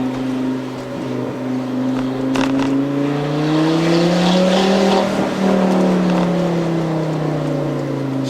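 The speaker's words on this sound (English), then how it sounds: "Volvo models that came with the gosh awesome 5-cylinder sound, those inline 5-cylinder engines" A Volvo inline five-cylinder engine revs up and holds, a loud, close, throaty tone that climbs steadily in pitch and then settles, alone with no talking.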